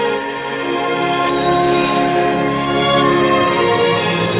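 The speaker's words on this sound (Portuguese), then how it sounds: "O som dos sininhos dava a velocidade da bola." Small bells ring in a steady, bright sustained chime while a ball rolls down an inclined plane past spaced bells, with a fresh strike midway; clear and close with no talk.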